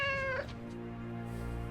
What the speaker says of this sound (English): she wouldn't suspect a kitty